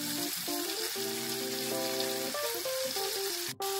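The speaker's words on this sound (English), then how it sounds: "Ray is over here frying the chicken" Chicken frying in a pan for a spicy Jamaican chicken salad, a steady close sizzle lasting throughout, with faint tonal sounds in the background and no talking.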